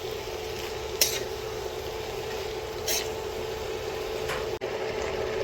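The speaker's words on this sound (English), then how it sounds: "I'm going to go ahead and add this sauce. And then I'm going to mix everything up well." Beef stir fry with added sauce sizzling steadily in a pan, with a few sharp clinks of a utensil against the pan as everything is mixed together.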